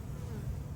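Honeybees buzz in a steady, close, low drone while a hive is opened and inspected, the hum continuous and moderately quiet with no talk.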